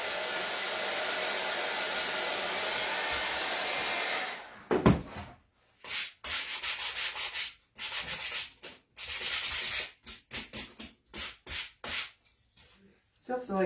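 A hair dryer blows steadily for about four seconds over a craft pumpkin decoration, then cuts off and gives way to a series of short, rhythmic sanding strokes on the piece.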